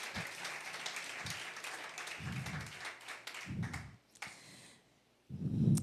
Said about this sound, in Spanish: Denle un fuerte aplauso al Señor, mis hermanos, que estamos vivos